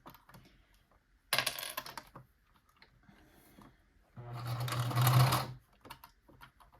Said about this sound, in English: now we're going to start sewing